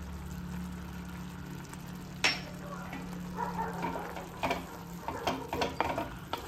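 A tomato and dried prawn curry frying in a pan as coriander powder is added, a low sizzle under scattered stirring scrapes and soft clinks, close and moderate in level.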